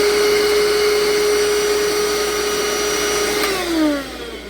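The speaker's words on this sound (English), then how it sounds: "So I'm vacuuming up each one as they go along" Vacuum cleaner running at a window while sucking up ants, a steady close whine that holds constant, then drops in pitch near the end as the motor slows.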